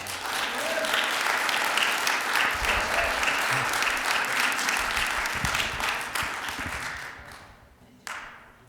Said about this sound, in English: I see hands being clapped out there by the majority of the people that are here